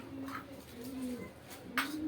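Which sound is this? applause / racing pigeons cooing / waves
racing pigeons cooing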